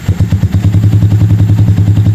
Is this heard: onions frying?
no